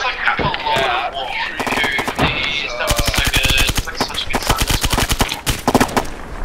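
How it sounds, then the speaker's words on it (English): Rapid automatic gunfire bursts and single shots crack through a woodland firefight in the military shooter game ArmA 3, loud and close, with players talking over the shooting. "We're shooting through the woods."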